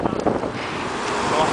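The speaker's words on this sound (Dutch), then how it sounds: "De jongens hebben last van de wind." Strong wind buffets the microphone while riding recumbent bikes at about 35 km/h through France, a loud, continuous roar with uneven gusty swells.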